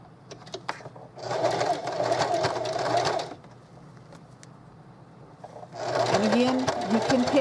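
A sewing machine stitches through a thick layer of a vintage lace snap bag in two bursts of rapid whirring, separated by a quieter pause with small handling clicks.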